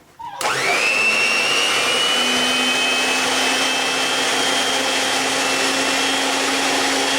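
A Scarlett SC-HM40B01 stand mixer with a turning bowl starts up and runs at its first speed, giving a steady, loud motor whine that holds evenly after a brief spin-up, with no talking.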